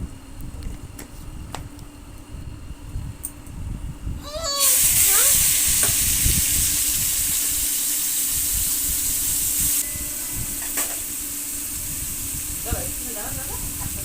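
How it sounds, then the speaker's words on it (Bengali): Turmeric-and-salt coated prawns drop into hot oil in a kadai. A loud, hissing sizzle bursts in partway through and keeps going over scattered kitchen clatter, with a voice talking in the background. "তেলটা গরম হয়ে আসলে তার মধ্যে দিয়ে দিতে হবে হলুদ নুন মাখানো চিংড়ি মাছগুলো"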